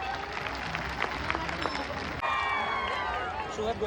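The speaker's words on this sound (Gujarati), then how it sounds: "તમારા બધા માટે એકવાર જોરદાર તાળીઓ થઈ જાય" A crowd at a film-star event in Mehsana claps and cheers steadily, a dense wash of applause that swells slightly halfway through, with a voice speaking over it.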